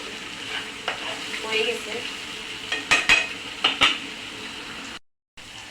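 A tilapia fish and cucumber bharta with coriander leaves is stirred in a sizzling pan. Several clinking, scraping strokes of the utensil sound close against a constant fry, and a brief spoken phrase comes near the end.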